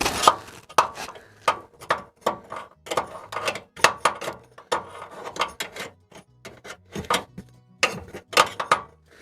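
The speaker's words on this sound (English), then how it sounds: "let's just scoop that out of there" A metal tool scoops and scrapes debris out of a wood pellet stove during a deep clean, making a steady series of sharp, close scraping and clanking strokes with brief pauses between them.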